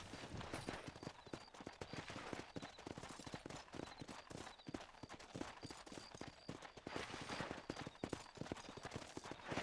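Rapid rhythmic hoofbeats of a galloping horse in Red Dead Redemption, steady and fairly loud, with continuous clattering impacts throughout and no talking.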